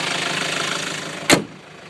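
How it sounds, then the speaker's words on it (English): Hyundai Santa Fe engine idling just after starting while the car smokes, a steady broadband mechanical hum with one brief loud burst near the end before settling quieter. "The car is working now."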